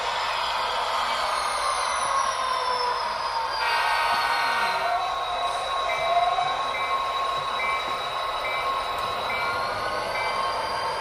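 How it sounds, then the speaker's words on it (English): A model train rumbles steadily along the track with a high metallic squeal and whine riding over the continuous running noise, with no pauses. "let me see if I can get a train to run"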